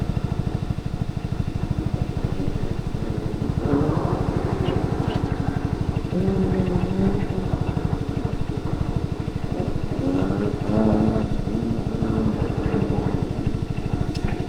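A motorcycle engine drones steadily while the bike is ridden, a dense rapid low thrum that runs for the whole clip, close and loud, with a rider talking over it.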